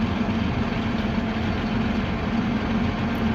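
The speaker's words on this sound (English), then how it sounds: "So sure do enjoy seeing this gleaner out working." A Gleaner combine harvester works a soybean field in Iowa, its engine a steady, loud low drone with a constant hum, running alone without any talking.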